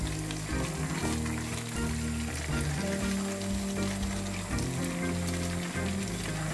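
Mixed vegetables with lemon juice being stirred in a frying pan, cooked Chinese restaurant style, giving a steady, even sizzle that runs throughout under background music.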